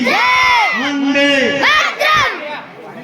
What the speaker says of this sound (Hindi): जोरदार तालियों के साथ एक बार जोश के साथ भारत माता की वंदे।